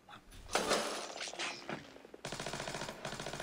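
Automatic gunfire rattles in Splinter Cell Spies vs Mercs online multiplayer, a loud early burst followed by a rapid rhythmic volley of shots, with no voices.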